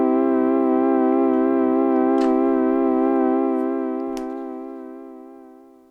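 A single sustained Vongon Replay synthesizer note, rich in evenly stacked harmonics, holds steady for about three seconds and then fades smoothly with a medium release, with a couple of faint clicks along the way and no voices.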